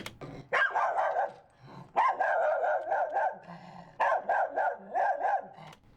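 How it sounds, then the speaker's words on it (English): A miniature schnauzer's barks, slowed and pitched down into a deeper, bigger-sounding dog, come in three close clusters of loud, rhythmic woofs with brief gaps between them and no voices. "Play the authentic miniature schnauzer. And so here's the pitched down version."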